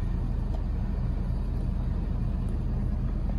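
A 2022 Ford F350 XLT dually pickup with the 6.7L Power Stroke diesel rumbles steadily at idle after a push-button start, a dense, continuous low drone with no talking.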